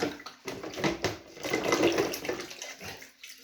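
Tap water runs and splashes in a bathroom while a filter flask is washed, its flow swelling and dropping in uneven surges before fading out.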